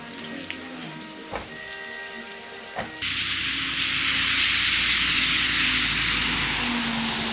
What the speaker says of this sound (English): It's a little bit raining, and raining.